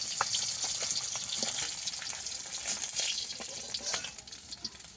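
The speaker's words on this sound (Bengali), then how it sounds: "মাছগুলো আমি এইভাবে ভেজে নিয়েছি এই দুটো মাছও ভেজে নেব" Fish frying in oil in a pan for a spicy Bengali fish curry, a steady dense crackle and sizzle with scattered sharper pops, close and continuous with no talk.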